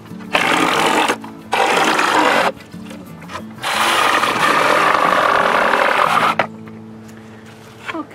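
A saw cuts through a wooden pallet in loud bursts, two short runs followed by a longer steady stretch, with brief pauses between them and a quieter hum toward the end.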